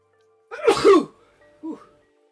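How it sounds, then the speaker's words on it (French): A single loud sneeze bursts out close by, followed by a short quiet sniff or exhale a moment later. "Je crois que je vais éternuer là."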